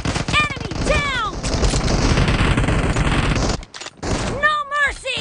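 Rifle fire in the mobile battle-royale game PUBG Mobile from a Kar98 bolt-action rifle in team deathmatch: loud dense shooting and game effects run continuously, with announcer-style voice callouts rising over the mix.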